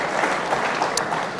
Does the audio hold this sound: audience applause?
yes